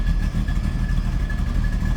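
Low, steady exhaust rumble from a 1968 Pontiac Firebird 400 with dual exhaust, idling close by with a continuous throaty drone and no talk over it.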